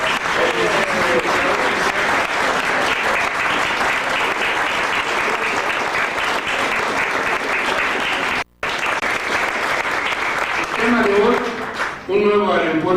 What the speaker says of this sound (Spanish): ya viene el compañero Nacho del Valle, le vamos a dar un aplauso a él.